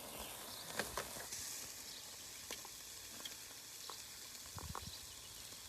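Cajun steak sizzling in a pan, a soft, continuous hiss with scattered crackles and pops, faint and steady, with no one speaking.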